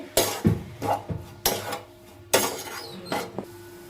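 Spoon scraping and knocking against a pan while spices are roasted in oil on a low flame, a series of sharp metallic clinks and scrapes spaced irregularly, close by.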